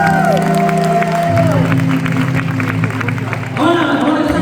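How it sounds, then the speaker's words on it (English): An audience at a speech event claps and cheers for the speaker's parents, a loud mix of clapping and whoops that swells, dips slightly midway and rises again, with a sustained tone and voices underneath. "To give them a round of applause"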